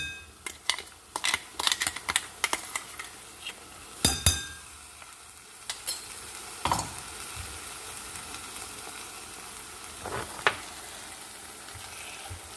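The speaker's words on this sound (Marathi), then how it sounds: "ह्याला परतणार आहोत गॅस बारीकच ठेवायचा आहे" Schezwan chutney ingredients with ginger and garlic sautéing in a pan over low gas, a soft steady sizzle punctuated by sharp scraping clicks of a spoon against the pan.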